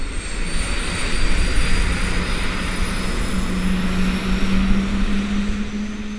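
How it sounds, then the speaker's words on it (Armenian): A Ministry of Health helicopter flies over the Bazum mountains in Armenia, carrying an injured firefighter from a wildfire; a steady, loud engine and rotor drone holds throughout with a sustained low hum and no talk. "Առողջապահության նախարարության ուղղաթիռը բազումի լեռներից Երևան է տեղափոխում հրդեհից"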